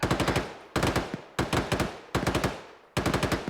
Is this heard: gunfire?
yes